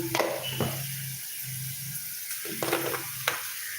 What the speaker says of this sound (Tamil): பூண்டு வதங்கிருச்சு கொஞ்சமாக மஞ்சள் தூள்